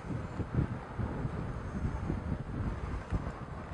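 Gusty wind buffets the microphone outdoors beside a giant fire hydrant, a steady low rumble with irregular thumping surges throughout, no talk over it.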